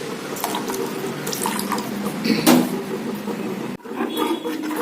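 Running water pours steadily into a metal pan, close and continuous, with a brief clank and a short break near the end.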